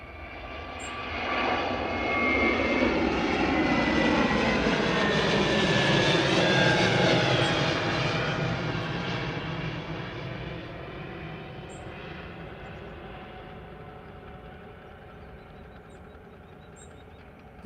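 An Airbus A321neo jet airliner departs Liverpool Airport. Its broad engine roar swells over the first seconds, holds loud and steady, then slowly fades as it climbs away, with no voices.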